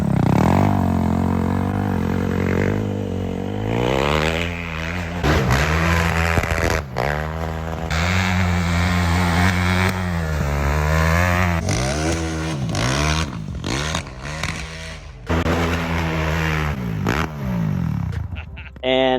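A home-built crosskart powered by a KTM engine runs loud and close, revving up and down repeatedly with rising and falling pitch and sharp throttle blips throughout.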